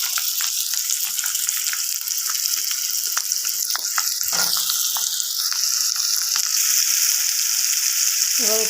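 Chopped potatoes frying in hot oil for a vegetarian pumpkin chhakka with poppy seed and grated ginger, a steady loud sizzle with clinks and scrapes of stirring throughout.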